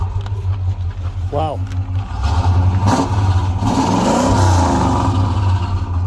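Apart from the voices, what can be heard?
1968 Pontiac GTO engine starting and revving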